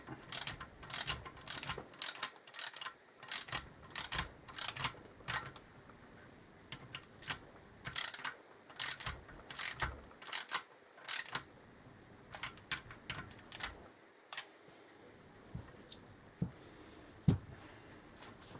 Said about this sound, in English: just as well I kept my Imperial socket set